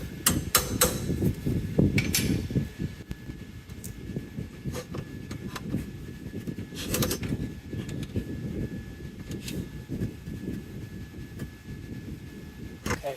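Hammer taps on the front suspension during a lower ball joint replacement on a 2003-2007 Honda Accord, several sharp metallic knocks early and a few scattered ones later over a rumbling low background.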